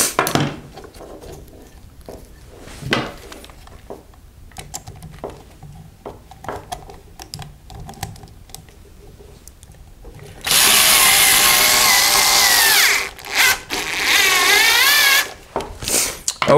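A power drill drives screws that fasten harness holder clips to the wood inside a Midway Pac-Man mini arcade cabinet being restored; quiet handling sounds lead to a loud, sustained whirring run in short bursts near the end.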